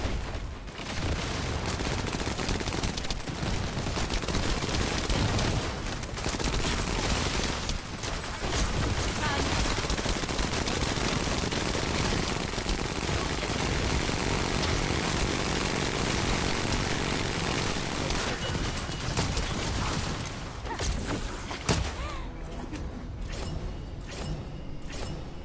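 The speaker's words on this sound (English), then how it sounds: "How annoying that his rocket or his grenade launcher is." Enemy rocket or grenade launcher fire in the shooter game The First Descendant, a dense, loud, continuous barrage of blasts and rumbling that sounds throughout with only brief dips.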